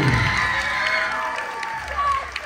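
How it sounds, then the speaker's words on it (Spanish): Guests at a quinceañera party clap and cheer, a dense burst of applause and shouts that starts loud and slowly thins, with a few whoops rising over the clatter. "esos aplausos para el CEL"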